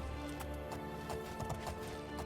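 Horse hooves clip-clopping in Oblivion at the Chorrol stables, a quick light rhythm over steady game music.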